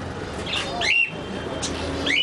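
Pigeons at a pigeon farm, including fantail-type birds, give a few short squawking calls and chirps over a low, steady background hum.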